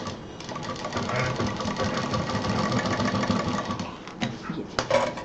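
A sewing machine runs steadily, stitching a stylish DIY fabric bag or purse, its rapid mechanical whir continuous for about four seconds before stopping and giving way to a few handling clicks.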